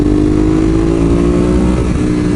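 A new sports motorcycle engine running loud and close, a steady low growl that rises slightly as if revved, with no talking over it.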